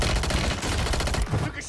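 Rifle fire from an XRK Stalker in Warzone 3, a loud, dense burst of close game gunfire packed into under two seconds, with a faint voice mixed underneath.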